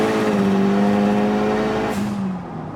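A Talon car accelerating hard with drivetrain slippage gives a loud, steady engine drone whose pitch climbs, then drops sharply near the end as the slip hits, before the sound eases off.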